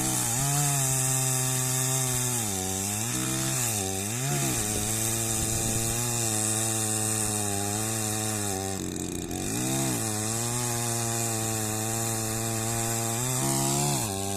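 Chainsaw cutting wood while forest is cleared for farmland, the engine droning loud and close throughout, its pitch dipping and rising as it bites into the wood and revs between cuts.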